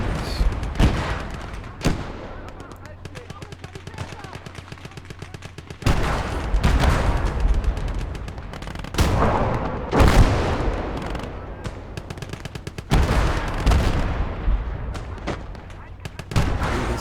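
Howitzer artillery in the Gates of Hell war game fires a few loud, booming shots spaced several seconds apart, each one rolling into a long rumbling tail over ongoing battle noise.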